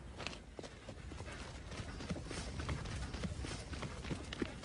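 Appaloosa stallion with Spanish bloodlines walking, hooves clip-clopping in a steady, fairly close rhythm, each footfall distinct, with faint background sound.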